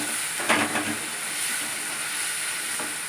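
Two chopped tomatoes sizzling in a hot pan for egg omelette masala, a steady broad hiss with a brief stirring scrape near the start, close and fairly loud with no talking.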